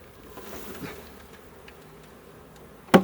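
Honeybees being moved from a nuc into a 10-frame deep hive box give a faint, low buzzing hum, ending in a single sharp knock as the frame is bumped.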